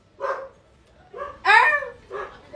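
A dog barks three times nearby, short sharp yaps with gaps between, the middle bark loudest.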